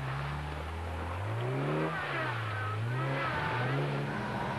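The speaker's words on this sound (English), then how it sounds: "if you listen, you can hear the whine of the supercharger" A supercharged Suzuki rally car climbs a hill in the 1995 Transsylvania Trophy, its engine droning steadily with pitch swinging up and down through gear changes, the supercharger's high whine riding over it, loud and continuous.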